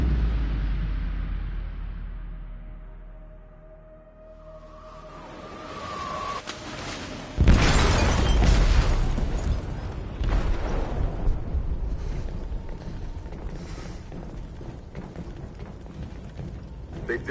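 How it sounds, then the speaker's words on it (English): A loud explosion detonates in a ship's hold in the video game Detroit: Become Human, a sudden heavy boom after a low rumble, followed by a long roaring, crackling aftermath. "They detonated an explosive in the hold."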